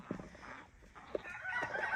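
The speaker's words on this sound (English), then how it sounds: "I have chickens and ducks back here, a lot of them." Backyard chickens and ducks call in short bursts, a few clucks and squawks spaced across two seconds, fairly faint against a quiet outdoor background.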